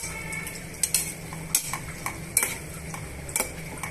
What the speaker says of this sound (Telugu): ఇప్పుడు వంకాయ ముక్కల్ని టమాటా ముక్కల్ని అటు ఇటు మిక్స్ చేసుకోవాలండి